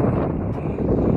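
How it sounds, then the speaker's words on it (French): Strong wind buffets the microphone while cycling a long mountain-bike route, a continuous low roaring rumble with no speech. "Mais là, il y a beaucoup de vent."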